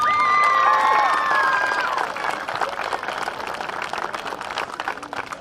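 A crowd at a baseball and softball parade claps and cheers loudly for a player, with high whistles and shouts up front before the applause settles into steady clapping.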